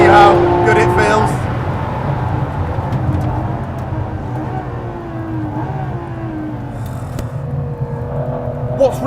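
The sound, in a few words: Ferrari LaFerrari engine revving to nearly 9,000 RPM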